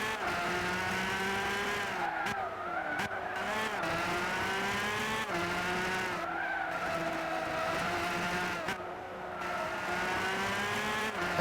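A McLaren race car in the Gran Turismo 6 video game racing against a Ferrari FXX and a Bugatti Veyron, its engine whining steadily at high revs with repeated gear shifts and tire squeals, loud and continuous.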